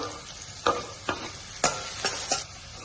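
Onion and capsicum stir-fried in a hot pan for veg manchurian: a steady sizzle with several sharp scraping strokes of a spatula spaced through the clip, close and clear, with no talking.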